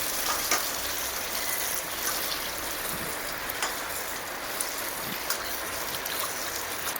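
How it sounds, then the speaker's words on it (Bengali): Running tap water splashes steadily over sliced kundri (ivy gourd) being rinsed, a continuous close hiss with faint clinks and trickles throughout. "আমি পরিষ্কার করে জল দিয়ে এখন ধুয়ে নেব"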